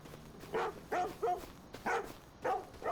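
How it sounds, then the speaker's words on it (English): A dog barks several times in short, evenly spaced woofs. The barks are moderately distant and fairly faint, on a farm, with no talking over them. "I can hear a dog barking"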